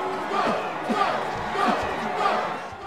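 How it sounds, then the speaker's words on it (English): An arena crowd chants in the boxing video game Fight Night 2004, a loud, continuous mass of voices with a rhythmic swell that repeats roughly every half second to second. "The crowd chant."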